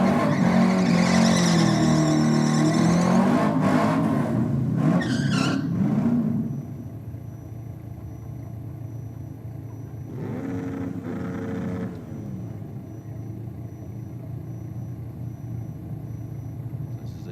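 A black Commodore drag car on nitrous runs loud at a drag strip for about six seconds. Its roar then drops to a distant rumble with another engine passing in the background.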